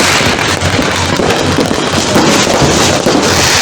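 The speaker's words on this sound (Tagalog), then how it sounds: "Ayan, fireworks." Continuous loud New Year fireworks, rapid overlapping pops and crackles filling the air, close by and unbroken.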